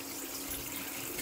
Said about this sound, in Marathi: पाणी काढू त्यांचं.